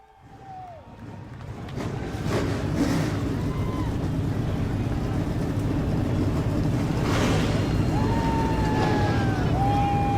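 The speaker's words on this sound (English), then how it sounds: "drivers, start your engines" Race car engines start up in the iRacing video game during an eNASCAR Coca-Cola series event at Pocono Raceway, a low rumble swelling into a sustained loud drone with occasional rising whines.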